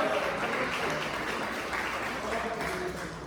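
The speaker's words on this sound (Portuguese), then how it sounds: "Palmas para Jesus" A church congregation at a healing and deliverance service applauds together in a dense, continuous wash of clapping. Voices keep calling out over the clapping.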